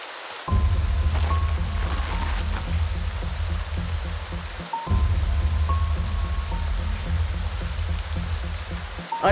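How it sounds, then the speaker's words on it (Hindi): Heavy rain pours down steadily in a loud, continuous wash, with a faint recurring tonal phrase of background music running beneath it; no one speaks. "अरे कृष्णा, बारिश बहुत तेज हो रही है, संभल कर जाना।"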